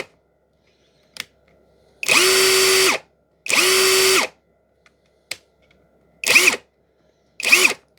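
A Litheli U20 brushless impact driver runs in four short trigger bursts, two longer whirring runs and then two quick spins, loud and close, with small clicks between bursts and no talking.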